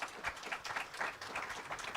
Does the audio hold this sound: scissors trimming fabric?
no